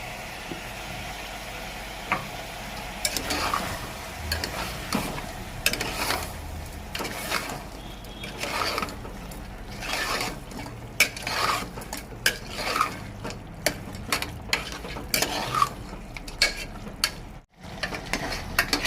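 A spoon stirs ground ginger-garlic paste through frying mutton curry masala in a pot for Tamil mutton kulambu, giving steady scraping and clinking against the pan over a low sizzle, close and continuous with no talk.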